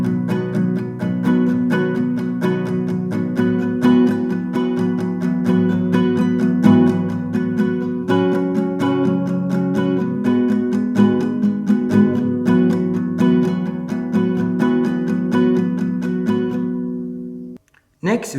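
An acoustic guitar strums the verse chords of the song, including a C with added second, in a steady, full, close-up rhythm that runs continuously before stopping abruptly near the end.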